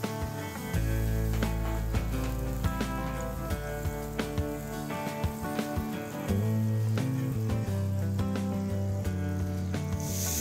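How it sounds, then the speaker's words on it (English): Butter hisses and sizzles in a hot saute pan, a steady frying crackle running under bright music, close and moderately loud throughout. "a little butter in our saute pan"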